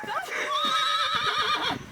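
A horse neighs and whinnies with a long, wavering call, loud and close, over outdoor background noise.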